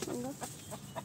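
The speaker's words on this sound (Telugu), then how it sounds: "ఇంకొక పుంజి ఇక్కడ కోడి పెట్టెలని గుడ్లు పెట్టిస్తుంది" Farm hens and a rooster give a few soft, short clucks in quick succession, faint and somewhat distant over a low background murmur.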